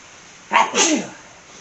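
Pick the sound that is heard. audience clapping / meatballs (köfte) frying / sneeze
sneeze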